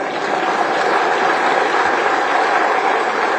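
Dense, continuous applause from a large audience at a Kumar Vishwas poetry recital, a steady loud roar of many hands clapping at once with no pauses or voices.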